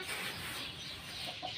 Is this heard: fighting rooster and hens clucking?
yes